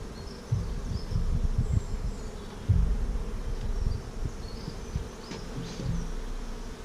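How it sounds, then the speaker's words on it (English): Honeybees from an overwintered colony buzz in a nuc hive, a close, dense drone that swells and eases in waves, with no talk. "And lots of bees still in there."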